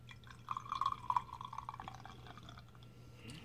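Craft beer pours into a glass, a brief burst of bubbly splashing and trickling that fizzes and trails off into a quiet hiss.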